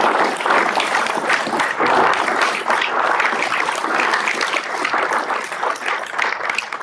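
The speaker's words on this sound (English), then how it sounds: "can we give them a round of applause?" A community forum audience gives a sustained round of applause, dense and steady clapping filling the room from start to finish without a break.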